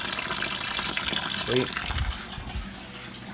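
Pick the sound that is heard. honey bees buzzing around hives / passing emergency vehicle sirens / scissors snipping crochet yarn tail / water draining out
water draining out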